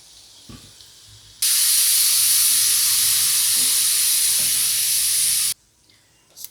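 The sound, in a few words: pressure cooker whistle releasing steam while cooking rajma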